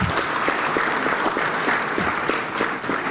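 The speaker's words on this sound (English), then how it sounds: "Let's give our Papa another round of applause" Audience applause at an inter-parliamentary conference on family and values, a full hall clapping steadily in a dense, even roar that holds for a few seconds.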